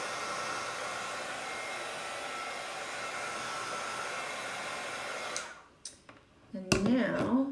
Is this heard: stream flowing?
no